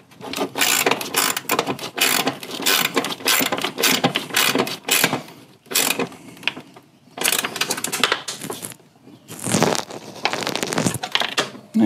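A ratchet tightening a battery terminal on a Toyota Landcruiser 80 Series, loud close bursts of rapid clicking strokes separated by short pauses.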